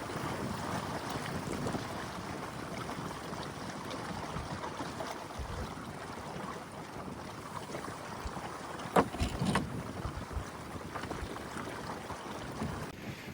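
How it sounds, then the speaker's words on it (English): Steady wind rushes across the microphone while water swishes around a moving sailboat, with a brief louder gust or splash partway through. "That's a good wind right there."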